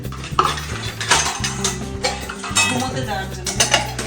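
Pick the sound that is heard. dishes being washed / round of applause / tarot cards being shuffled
dishes being washed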